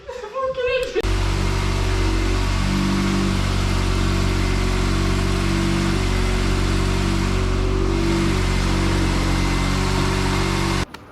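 A sticky-throttle engine, being tuned up ahead of a nationals event, idles steadily and loudly up close with a steady low harmonic drone and mild swells in revs. It runs continuously for about ten seconds with no clear speech over it.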